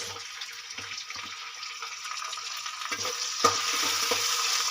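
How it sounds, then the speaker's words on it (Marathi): Tomatoes with ginger garlic paste fry in a pan with a steady, hissing sizzle, punctuated by soft stirring scrapes and one sharper knock partway through, close and continuous. "त्यामध्ये आता आपण टोमॅटो मिक्स करूया"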